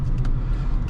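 Steady low engine and road rumble from a 2009 Honda Accord LX pulling away smoothly, heard from inside the cabin, even and continuous with no talking over it.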